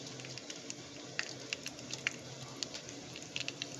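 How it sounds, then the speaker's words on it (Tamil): Mustard seeds, with two or three dried red chillies, pop in hot oil for a paruppu urundai kuzhambu. Scattered small crackles and pops sit over a steady low sizzle, fairly quiet and with no talk. "கடுகு பொரியட்டும்."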